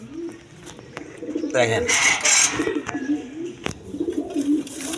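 Red Siraji pigeons, a hen and a cock, coo in low repeated throaty phrases close by, with a burst of wing flapping midway and someone talking over them.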